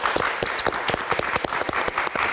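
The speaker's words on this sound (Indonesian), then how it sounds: "Kita berikan tepuk tangan." Studio audience at a live Indonesian talk show applauding steadily, dense clapping throughout at close range with no talk over it.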